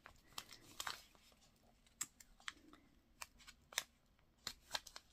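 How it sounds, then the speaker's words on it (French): Scissors snipping open a mail envelope indoors, a series of sharp, close snips and crinkly paper rustles spread irregularly across the clip, fairly quiet with no talking. "je vais ouvrir avec les ciseaux"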